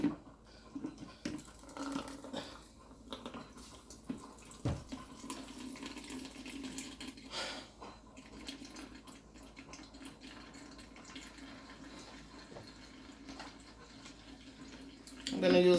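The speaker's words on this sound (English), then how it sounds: "now strain it out. This is my big jug." Carrot juice strained into a big jug: a continuous trickling, splashing pour of liquid close by, with a voice heard faintly at times beneath it.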